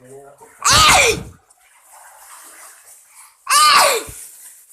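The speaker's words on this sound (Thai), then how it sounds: "ขอจามครับ" Two loud, explosive bursts about three seconds apart, close to the mic, consistent with sneezes, with quiet background noise between them.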